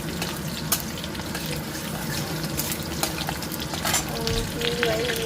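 Chopped garlic and green chillies frying in oil in a home kitchen pan: a steady, close sizzle with occasional crackles and spoon clinks, continuous and fairly loud.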